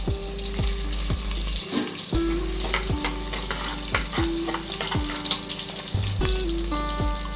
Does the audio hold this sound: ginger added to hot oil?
yes